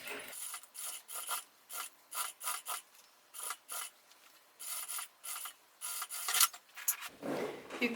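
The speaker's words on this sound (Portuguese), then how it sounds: "Vou entrar aqui na máquina. E vou passar a costura com a margem de meio centímetro." Sewing machine running a half-centimetre seam on a fabric crossbody bag, repeated short whirring bursts of stitching with brief pauses between, close and fairly quiet, no talk.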